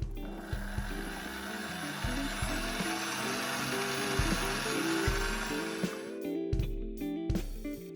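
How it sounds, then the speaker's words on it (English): Six egg whites being whisked to soft peaks with an electric mixer, a steady close motor whirr with shifting pitch that runs throughout, then cuts out and restarts in short bursts near the end. "I've got 6 egg whites and I'm just going to whisk it until it forms soft"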